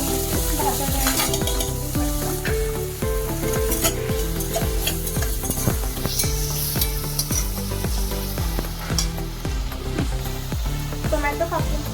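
Boiled green peas sizzle and fry in a pan while being stirred, with rhythmic scraping strokes of a spoon against the pan over a continuous close sizzle, no talk.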